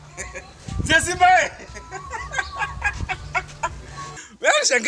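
Chicken-like clucking cries rise in short bursts amid busy overlapping voices in a Swahili drama scene, fairly close and loud, with a brief pause before a final burst.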